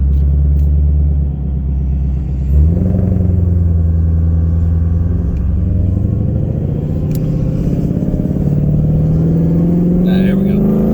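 A 2020 Mustang GT500 with a 3.8 Whipple supercharger making 1200 whp, driven with windows down: a loud, deep engine drone that rises steadily in pitch as it accelerates, with a shift-like surge early on and talk in the cabin.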